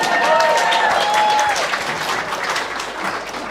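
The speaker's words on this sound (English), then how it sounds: "Go, keep clapping." Dense applause from an audience at a political dinner event, loud and continuous across the short stretch, with a few voices calling out over the clapping.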